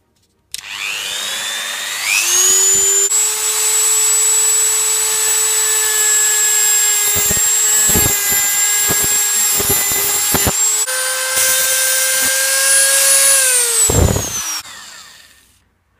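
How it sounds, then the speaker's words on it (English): A Dremel rotary tool spins up with a rising whine and holds a loud, steady high-pitched drone while cutting an ISP to breadboard adapter, with brief dips and scraping bursts as it bites, then winds down. "I will cut it using Dremel tool"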